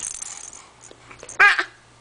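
A young girl gives one tiny, quick sneeze, a brief close burst after a few quiet soft rustles.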